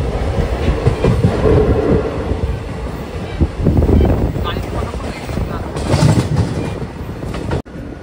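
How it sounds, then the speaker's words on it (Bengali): Loud, continuous rumble of a moving train with rhythmic clatter of wheels on tracks and wind buffeting the microphone. "ট্রেন এই মুহূর্তে রাইট টাইমে চলছে"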